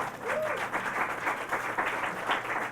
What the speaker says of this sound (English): Can we give a round of applause for everyone that brought product to sell today in the vendors market here?